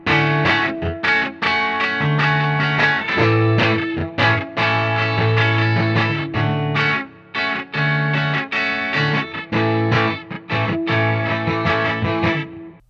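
Electric guitar played through the Fine Classics Vintage Vibe amp simulator plugin, giving a crunchy, distorted lead tone: continuous strummed chords and riffs with brief gaps, loud and close, with no voices.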